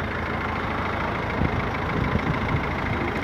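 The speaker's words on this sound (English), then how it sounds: "timing chain engine, all nice and clean, sounds as it should" A Jaguar X-Type's 2.2 diesel timing-chain engine idles steadily at close range, a smooth, even rumble with no speech over it.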